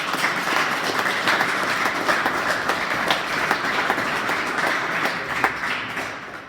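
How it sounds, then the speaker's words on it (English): An audience at a school wrestling awards ceremony applauds an honoured wrestler, a steady, moderately loud patter of many hands clapping in a hall with no one speaking. "Let's give him a round of applause"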